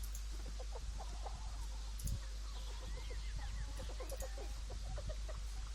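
A flock of chickens clucking in a village in Baldur's Gate 2, with many short, close, busy clucks and chirps over a constant low hum, scattered throughout with no speech.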